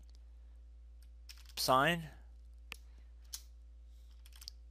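A few isolated clicks of keys on a computer keyboard while a command is typed, sparse and fairly faint, with a short spoken word between them.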